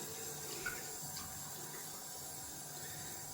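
Tap water runs steadily at a sink while shaving gear for a brass safety razor is rinsed, a soft continuous splashing hiss, close and alone.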